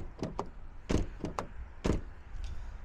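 A Dacia Jogger Essential Turbo ECO-G car door shuts several times, giving solid low thuds and clicks that are close but fairly faint, with no talk.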